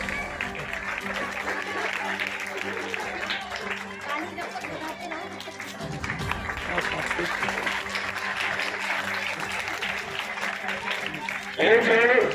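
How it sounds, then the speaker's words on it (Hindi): Audience applause at a school principal's retirement ceremony at a government school, steady clapping running throughout amid crowd chatter, with a voice speaking over it and a louder burst near the end. "तो आप तालियां बजाएं"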